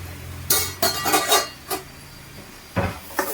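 A spoon clinks and scrapes against a metal pot while turmeric is stirred into buttermilk kadhi, with a burst of rapid clatter early on, a single knock, then two more scrapes near the end, close and fairly loud.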